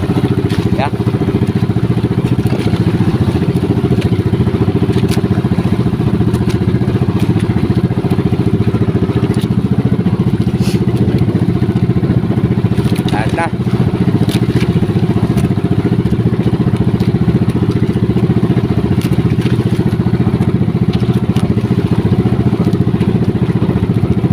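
A fishing boat engine drones steadily at sea in rough conditions, a loud continuous rumble with wind and water noise, running unbroken throughout.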